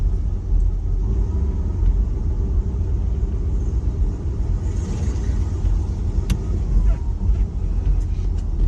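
A 1970 Pontiac GTO engine rumbles steadily from inside the moving car, a low, continuous drone with road noise and a few faint clicks.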